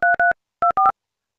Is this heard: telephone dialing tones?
yes